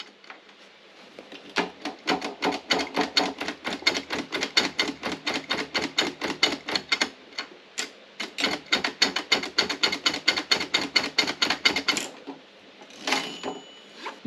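Robotron Optima East German typewriter with a rapid, sustained chain of sharp mechanical clacks from the carriage release mechanism and typing action. There are two long bursts separated by a short pause, then a few scattered clicks, close and loud.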